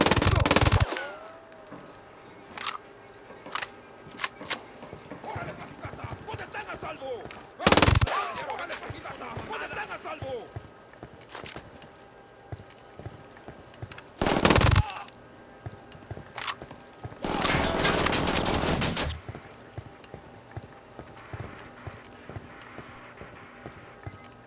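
Scattered submachine gun bursts from Ghost Recon Wildlands, several short loud volleys spaced apart amid quieter ambient game sound, with one longer sustained burst near the end.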